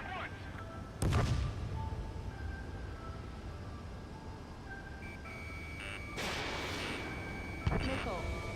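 Heavy anti-aircraft missile launches in Ace Combat 7, two sharp booming blasts about five seconds apart over a continuous roar of battle, with radio chatter and tones in the background.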